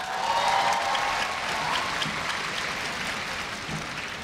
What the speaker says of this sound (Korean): 박수 많이 치시느라 힘드셨죠?